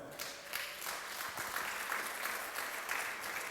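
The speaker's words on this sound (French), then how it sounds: "On applaudit notre frère Raphaël." A church congregation applauds steadily through the whole stretch, a dense, even wash of clapping heard from within the room at moderate level.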